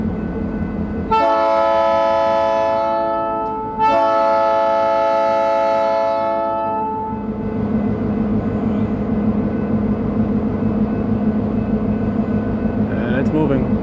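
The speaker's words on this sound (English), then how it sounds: "This train will start moving." A Canadian Pacific freight train at Rouses Point sounds a long, loud horn in two blasts, then a low, steady rumble builds as it begins rolling.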